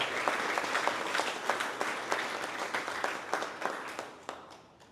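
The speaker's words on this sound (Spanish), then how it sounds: "Le damos un fuerte aplauso a esta comunidad" Congregation at a Catholic Mass giving a warm round of applause for the parish community, steady dense clapping with distinct individual claps standing out, fading toward the end.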